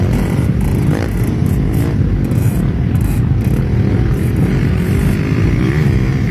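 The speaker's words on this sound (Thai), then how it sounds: "สำหรับรุ่นนี้เป็นซูเปอร์คัพช่วงล่างไม่ค่อย ดีไม่ค่อยสมบูรณ์แบบเหมือนรถเอนดโร" Honda Super Cub motorcycles race in an enduro event in Nan, Thailand, producing a loud, continuous, buzzing engine drone that stays steady and close throughout, with no voices.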